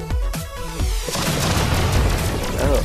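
Gunfire and booming explosions from a mixed reality drone combat game: rapid repeated shots at first, then a loud sustained rumble of blasts filling the space, close and dense.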